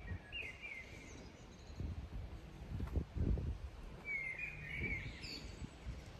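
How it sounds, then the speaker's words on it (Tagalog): Birds chirp outdoors in a few short, high calls spread through the clip, faint and somewhat distant over low rustling background noise. "Maririnig nyo is tunog ng ibon."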